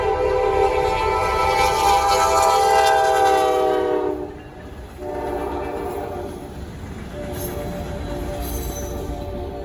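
A Norfolk Southern freight train rumbles past nearby, its loud, sustained horn blaring for several seconds before cutting off, followed by steady rolling noise of cars on the tracks.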